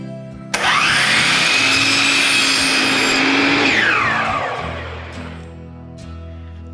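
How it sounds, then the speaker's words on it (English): A compound miter saw whines up loudly, bites through crown molding for kitchen cabinets in one steady cut of about three seconds, then spins down, with small workshop clatter after. "The angle is set on my compound miter saw. I'll now cut the left side."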